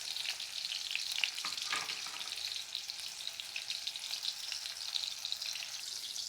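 Tomatoes fry alongside two dried chillies in a hot pan, giving a close, steady hiss of oil with a brief burst of louder spattering near the start, then an even sizzle with no voices.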